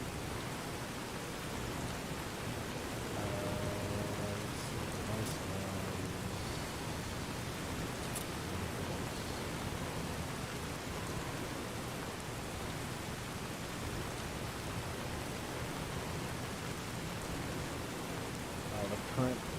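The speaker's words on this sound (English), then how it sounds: "rain is actually really loud" A rain sound effect plays in Fallout: New Vegas as a steady, loud wash of broadband hiss, constant throughout with no voices over it.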